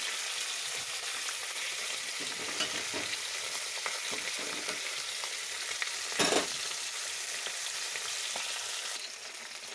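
A curry of mustard greens and pabda fish bubbles and sizzles steadily in a pan, a continuous close crackle with a brief louder burst of spattering partway through and no talking.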